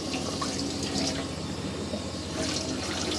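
Water tap running steadily in the kitchen of a Chausson Alegro 93 motorhome, a continuous close splashing hiss with no talk over it.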